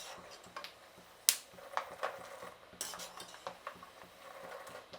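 Peanuts being stirred in a frying pan for a snack mixture, giving soft scraping and rustling with scattered light clinks and ticks of the utensil against the pan, one sharper knock near the start, at close range with no talking.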